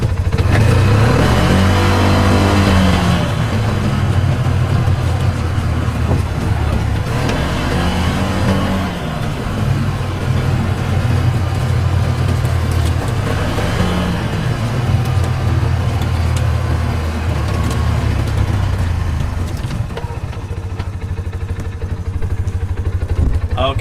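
A Polaris RZR 570 UTV with a vent-equipped windshield rolling down a steep, rough hill at about 20 mph, its engine droning loudly and steadily with rising and falling revs, rattle and wind noise, while a voice talks over it.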